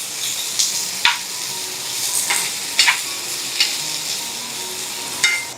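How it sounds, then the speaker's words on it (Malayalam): Chopped tomatoes and onions cook in a hot pan with a steady sizzle, broken by a handful of sharp spoon scrapes and clinks as they are stirred, close and clear, with no voices. "ഒന്ന് മൂടി വെച്ചെടുക്കുകയോ അല്ലെങ്കിൽ ഇടയ്ക്ക് ഒന്ന് ഇളക്കി കൊടുത്തോ കുക്ക് ചെയ്തെടുക്കുക"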